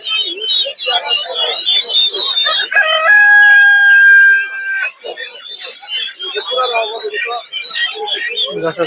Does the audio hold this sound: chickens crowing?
yes